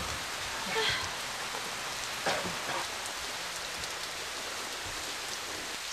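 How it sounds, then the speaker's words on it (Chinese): Steady rain falls outdoors in a continuous, even hiss, moderately loud and unbroken for several seconds, with only faint scattered knocks and no clear voices. "下雨了"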